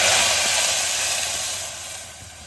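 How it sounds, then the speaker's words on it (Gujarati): Water is poured into a hot pan of roasted cumin seeds for rice-flour khichu, setting off a loud, steady hissing sizzle that slowly fades. "હવે આપણે એમાં પાણી એડ કરી લઈશું"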